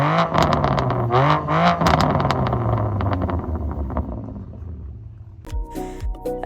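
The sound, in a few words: BMW M2 Competition exhaust sound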